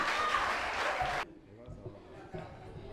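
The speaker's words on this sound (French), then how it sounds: "On l'applaudit." Audience applause at a quiz-show final, a brief dense burst of clapping that cuts off abruptly, followed by quiet room noise and faint voices.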